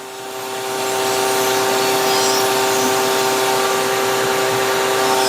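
A power tool runs with 70 grit aluminum oxide abrasive, sanding with a steady, loud, dense whine that builds over the first second and holds evenly, with no voices.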